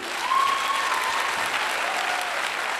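An audience bursts into loud, sustained applause at a motivational gathering, a dense wash of many hands clapping that holds steady throughout with a faint whistle-like tone early on.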